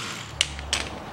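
A ratchet works on the bolts of a 2008 Chevrolet Epica steering rack, giving three sharp metallic clicks spaced across about a second over a faint low hum.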